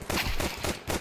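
Rapid gunfire in Counter-Strike 2, several quick bursts of shots in close succession over about a second, moderately loud.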